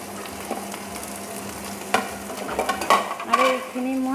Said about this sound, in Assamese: আৰু এইখিনি মই এনেদৰে কিছু টাইম ফ্ৰাই কৰি থাকিম।